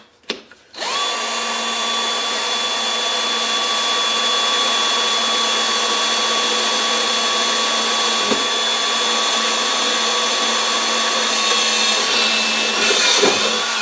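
A power drill bores a small pilot hole into an old meat grinder. It spins up after a short click and holds one loud, steady, high whine for the length of the clip, close to the listener.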